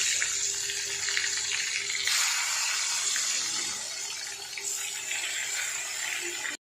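Eggplant slices fry in oil in a wok, a continuous close sizzle with a brighter surge partway through, holding steady until it cuts off abruptly.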